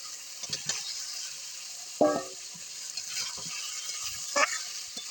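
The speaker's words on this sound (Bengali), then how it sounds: "এবার এখানে দিয়ে দেওয়া হচ্ছে ভেজে রাখা আলু আর পটলটা" Previously fried potatoes and pointed gourd go into hot spiced oil, giving a soft steady sizzle with a few sharper stirring scrapes and pan knocks in between.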